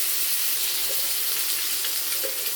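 Rohu fish pieces fry in a pan with a steady, close hiss of bubbling oil, constant and fairly loud, with faint spatters and no talking.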